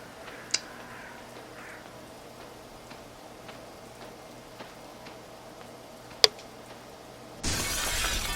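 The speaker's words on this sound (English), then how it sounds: "How dare you smashed my window?" Window glass smashes in the video game Arkham Horror Mother's Embrace: quiet ambience with a few faint ticks and a sharp click lead into a sudden loud crash of shattering glass near the end.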